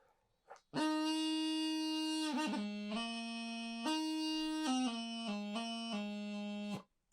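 A bagpipe practice chanter plays a clear, reedy scale, stepping through a sequence of sustained notes with brief grace-note flicks between them, close and steady.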